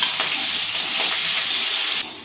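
Chopped onions hit hot oil with dried red chilies, chili powder and cumin for a doi katla curry, giving a loud, close, continuous sizzle that drops off sharply near the end.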